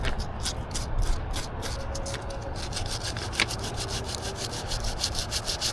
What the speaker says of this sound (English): we are going to sand this little extra piece off